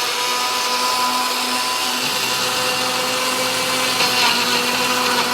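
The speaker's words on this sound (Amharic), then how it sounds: "ወደ መፍጫችን ላይ" An electric kitchen grinder runs continuously, blending ingredients with a little water in a steady, close, loud whir with faint tonal hum and no speech.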